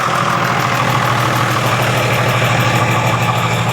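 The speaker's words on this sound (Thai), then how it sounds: "เราจะติดเครื่องให้ดูนะครับ ฟังเสียงเครื่องนะครับ" An Isuzu Rocky 195 truck's diesel engine idles steadily and loudly up close, a continuous low rumble with a rhythmic throb and no voices.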